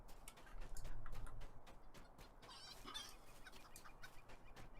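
A rooster in the Shire farmland of the video game Lord of the Rings Online clucks and calls faintly among soft game ambience, with scattered light clicks around it.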